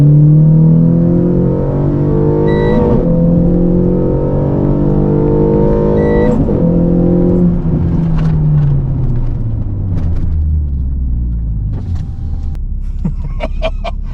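A Renault Sandero launches hard from 3,200 RPM with slight wheelspin. The engine note is loud and close and climbs steeply through the gears, with pitch drops at each shift and some cabin rattles toward the end.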